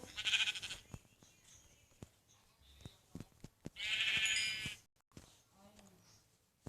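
Two loud, short bleats from a sheep in a video game, separated by a few seconds, with quieter clicks and game-like sounds in between.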